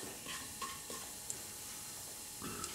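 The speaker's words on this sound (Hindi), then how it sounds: "इसमें हम क्यूमिन सीड डालेंगे और इसको थोड़ा सा टेम्पर करेंगे" Cumin seeds sizzling in hot oil for tempering, a steady, faint crackling hiss with occasional light stirring scrapes and small pops throughout.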